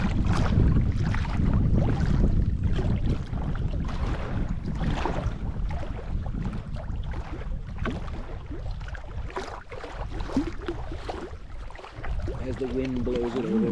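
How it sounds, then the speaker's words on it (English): Strong wind gusting at a lakeside campsite in Woodland Caribou Provincial Park, roaring and buffeting the microphone in a steady, loud rush throughout while people talk over it. "Yeah, man, that wind."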